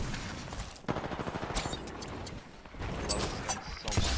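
Rapid gunfire from a weapon in Titanfall 2 multiplayer, pilots versus pilots mode, with bursts of shots rattling through much of the clip amid game effects and faint voices.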